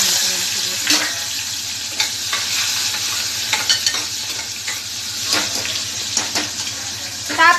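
Cumin, asafoetida, turmeric, green chili and chopped tomato hit hot oil while cooking a potato curry, giving a steady close sizzle with repeated stirring scrapes and a few sharper clinks, and no talking.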